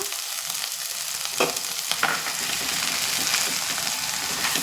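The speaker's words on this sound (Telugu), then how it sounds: "ఆయిల్ వేడెక్కింది కదా ఉల్లిపాయ పేస్ట్ వేసేసుకుందాం పచ్చిమిరపకాయలతో సహా" Onion paste and green chillies hit hot oil in a pan, producing a loud, steady, close sizzle and crackle throughout, with a couple of brief stirring knocks and no talk.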